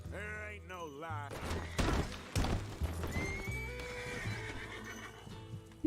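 A horse in Red Dead Redemption 2 gives a loud wavering whinny, then hooves clip-clop while gunfire bursts and other game sounds play, with a voice talking partway through.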